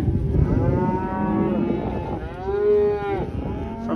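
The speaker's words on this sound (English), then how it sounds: "We're sorting the cows off" Cows being sorted from yearlings on a ranch, several loud drawn-out moos overlapping close by, with a deep bellow swelling near the end.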